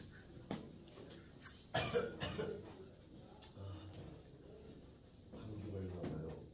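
Several coughs from a person with a cold, sharp bursts scattered through the clip with voices talking quietly around them.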